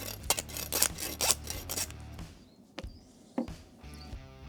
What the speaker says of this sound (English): we're going to use our handsaw and just handsaw through these bones.